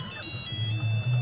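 A mobile phone ringtone chimes briefly in a steady, bright electronic pattern, close and clear, with a low background hum beneath it.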